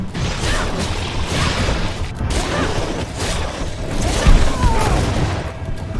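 Grenade explosions in the video game Greedfall: dense, continuous rumbling blasts and crashing impacts with whooshing debris, loud and close throughout, with a sharper bang near the end.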